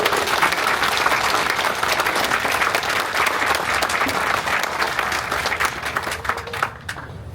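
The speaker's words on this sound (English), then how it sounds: "Let's give him another round of applause there." Audience applause at an outdoor Council Oak land transfer and repatriation ceremony, a dense continuous clapping crowd sustained for the full length, loud and close, fading slightly at the end.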